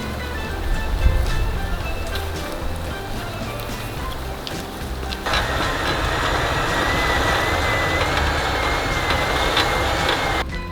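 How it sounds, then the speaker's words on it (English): A vehicle winch pulls a truck out of deep snow in Colorado, its steady mechanical whine starting partway through and running on loudly and continuously over a constant engine rumble. "Keep winching out of it."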